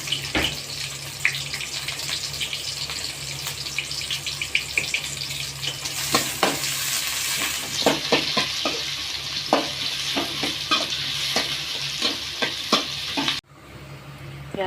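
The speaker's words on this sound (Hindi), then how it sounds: "ऑयल गर्म होने पर मीडियम साइज के 2 प्याज ऐड कर रही हूँ। हरी मिर्च डाल रही हूँ।" Two medium onions and green chilies fry in hot oil for an egg masala, a steady loud sizzle broken by repeated sharp clicks and scrapes of stirring, ending in a brief dip before the sizzle resumes.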